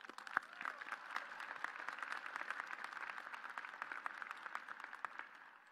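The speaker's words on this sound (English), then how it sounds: "Let's give them a huge round of applause." Steady applause from a large audience at a university commencement ceremony, many hands clapping continuously at moderate distance, a dense even wash of claps throughout.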